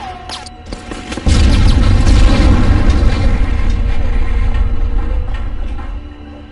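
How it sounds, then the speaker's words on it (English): A loud, booming explosion in the 1999 PS1 game Medal of Honor, a sudden heavy blast followed by a long rumbling, crashing decay that slowly fades. "Some man just got caught in that explosion, I think."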